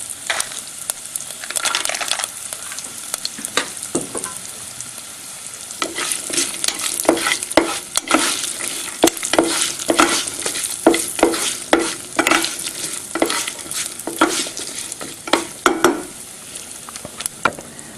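Cumin seeds and cashew nuts frying in a pan, with steady close sizzling and crackling, spatula stirring scrapes and sporadic pops throughout, no talking.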